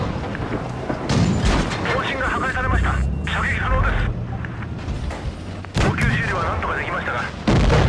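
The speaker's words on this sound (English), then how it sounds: "tried shooting the SPG, hit the gun mantlet and didn't penetrate" Tank cannon fire in World of Tanks Blitz, a Ho-Ri shooting at an enemy SPG: heavy booming gunshots with engine rumble and game effects, while someone talks over them.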